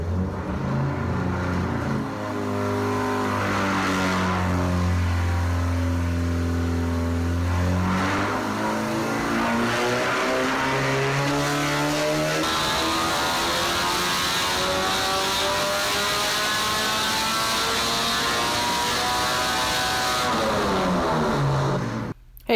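A Honda K24A2 engine with a stock oil pump revs hard and climbs steadily toward a very high rpm, its loud, continuous wail rising in pitch and holding near the top before cutting off sharply at the end.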